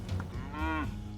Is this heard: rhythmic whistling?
no